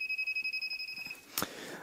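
A rapid string of about a dozen electronic beeps from an AC voltage tester, steady and evenly spaced, then a short clatter as they stop.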